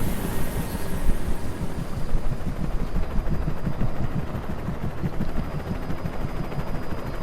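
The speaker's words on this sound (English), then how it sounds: "That chopper's not gonna save you." Steady low-frequency helicopter rotor thrum from Alan Wake Remastered, continuous and moderately loud throughout with no speech, with some sharp crackles that may be gunfire mixed in.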